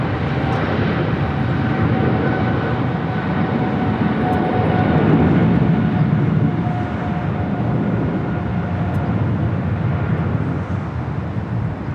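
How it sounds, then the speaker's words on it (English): China Southern Cargo Boeing 777 freighter on its takeoff roll at Los Angeles airport, a steady, broad jet-engine roar holding loud throughout with a slight swell in the middle. "We have the China Southern Cargo 777 freighter rolling on 25 right."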